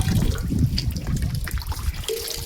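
Water running from a tap at a farm for an animal to drink, a close, uneven splashing trickle throughout with a thin whistle near the end, no speech.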